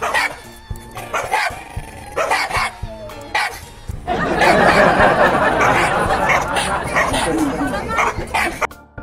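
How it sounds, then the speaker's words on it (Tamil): Dogs on a road bark and yip at each other in sharp repeated bursts, then break into a dense, loud snarling scuffle of overlapping barks and growls that continues to the end. "ரோட்ல நாய்ங்க ஒன்ன பார்த்து ஒன்னு குளைச்சிருக்கு"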